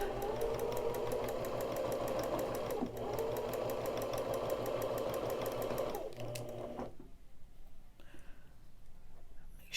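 Home sewing machine running a side seam on a fabric face mask, a steady, fast rhythmic whirr for about six seconds with a brief dip, then stopping into quiet handling sounds.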